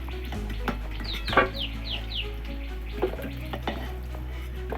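Potatoes frying in oil in a kadai until reddish, a continuous sizzle with occasional stirring knocks, while a chicken clucks faintly in the background.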